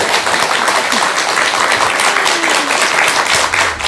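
Loud, dense applause from an audience at a Buddhist dharma talk, many hands clapping close and continuously for the whole stretch with no voices above it.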